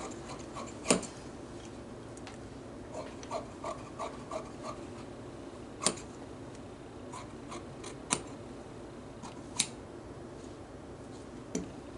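Fabric scissors snip notches into pattern pieces, a few sharp, separate cuts spaced a second or more apart against quiet room tone, with faint rubbing and handling between the snips.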